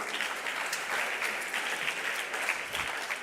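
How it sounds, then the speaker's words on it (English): An audience at a student talk event applauds a band with dense, sustained clapping from a crowd, heard at moderate distance with no voices over it. "I think the band deserves a huge round of applause."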